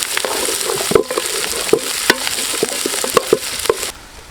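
Onions frying in a pan for chicken, a close, loud sizzle punctuated by repeated sharp clinks and scrapes of a spatula against the pan.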